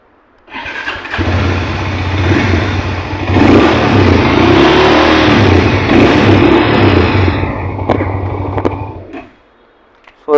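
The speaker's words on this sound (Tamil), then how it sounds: "பைக்கோட எக்ஸாஸ்ட் நோட் பார்த்துடலாம்." A Hero Mavrick 440 motorcycle starts and its exhaust rumbles loudly up close, held at a steady rev for several seconds before cutting off abruptly into near silence.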